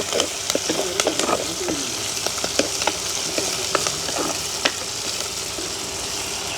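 Onion, green chili and curry leaves fry in a pan with a steady sizzle and frequent small crackles and spoon clinks, while birds coo faintly in the background of a village kitchen.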